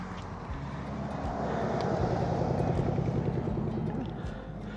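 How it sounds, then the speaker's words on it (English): A large truck passes during a dog's walking practice, its low engine rumble swelling to a peak near the middle and fading away, heard alone without talk. "Just get a little scared by the sound of the large truck there."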